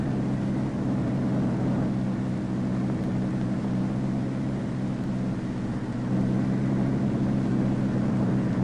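Convair XF-92 delta wing jet aircraft in flight, a steady broadband engine roar with constant loudness and no talk.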